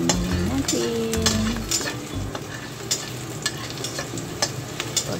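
Onion stirred in a hot pan for bitter gourd with oyster sauce, a steady close sizzle with scraping utensil strokes and clinks; low hum and some faint voice-like tones early on.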